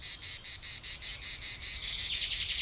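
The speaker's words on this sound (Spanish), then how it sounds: "Las cigarras, la chicharra, la cicada orni, el sonido del calor" Cicada orni cicadas sing in a high mountain pine forest in the Guadarrama, a loud close pulsing buzz with rapid regular bursts about five per second, steady and alone.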